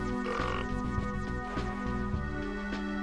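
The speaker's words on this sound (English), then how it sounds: "Why did I burp?" A video game character lets out a low, croaky burp, a rough gurgling grunt that rumbles through several pulses over a steady background hum.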